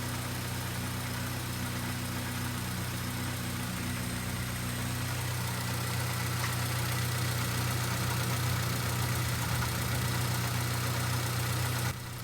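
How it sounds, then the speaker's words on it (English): A Honda Civic EK engine idles steadily with a low hum and a faint, rapid mechanical ticking from out-of-spec valves running throughout, continuous and close. "So that ticking sound you're hearing is from the valves being out of spec,"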